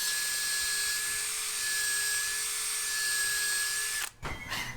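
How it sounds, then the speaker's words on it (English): A power drill whines at a steady high pitch for about four seconds while drilling a hole in an old, tough garden stake, then stops with a short clunk and some rattling. "and drill the hole."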